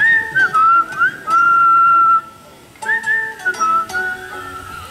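A person whistles a melodic tune in clear, sustained notes with a brief pause partway, close and loud with no talk over it.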